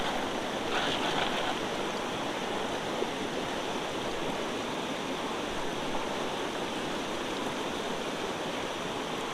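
Water at a shoreline gives a broad, steady rushing wash like surf or a fast stream, continuous and fairly distant, with no talk.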